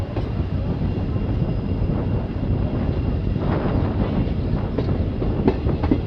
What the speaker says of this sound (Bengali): অনেকদিন পর ডিজেল লোকোমোটিভের কোনো ট্রেনে চাপলাম।